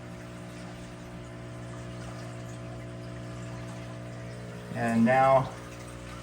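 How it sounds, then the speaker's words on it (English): A small water pump hums steadily as it cycles water in and out of a plant tank with a filter and bubbler, a constant low drone beneath a brief spoken phrase near the end. "the pump is continuing to cycle water in and out"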